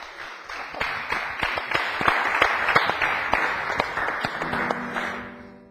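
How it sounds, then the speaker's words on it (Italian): A small audience applauds, with distinct hand claps building into a moderate round of clapping and tapering off near the end. "Se volete potete anche applaudire"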